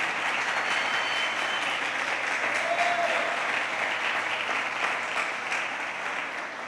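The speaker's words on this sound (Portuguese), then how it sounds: "Você pode aplaudir ao Rei dos Reis." A church congregation applauding together, a continuous wash of many hands clapping at moderate distance, steady and even throughout without voices standing out.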